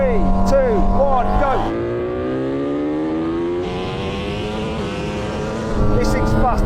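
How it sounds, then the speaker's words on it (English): A Lamborghini Huracan and a MotoGP race bike accelerating hard in a rolling race from 50 mph, engine notes climbing in pitch through gear changes, loud and close, with a voice speaking over them. "Now we're going to have a rolling race from 50 miles an hour."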